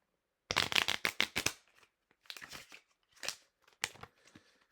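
Playing cards being shuffled several times in quick riffling bursts, close and crisp, with short pauses between shuffles and no talking over them.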